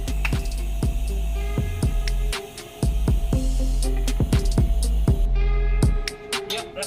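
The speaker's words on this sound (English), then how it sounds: "before I weld that bar, I need to weld this bar" MIG welding a steel pipe bar onto a Honda Civic race chassis: crackling, sputtering bursts in short repeated runs over a steady low hum, close and loud, with brief pauses between beads.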